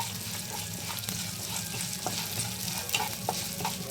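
Mustard seeds, urad dal and sesame seeds roasting in a pan after red chillies, with a steady dry sizzle, a spoon scraping and stirring throughout, and occasional small pops, close and alone.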